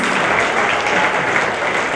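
A large audience at a fashion launch applauds Chandramani, the host's mother, invited on stage: steady, dense clapping that fills the space evenly and stays loud for the whole stretch.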